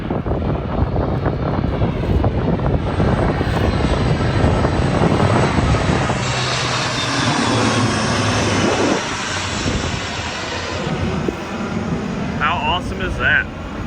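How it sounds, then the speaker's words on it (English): A C-130 military aircraft passes over a damaged Gulf fishing pier, a loud steady roar of engine and wind that holds for the full stretch, with a slight shift in tone partway through as it goes by. "Here's a C-130 coming over."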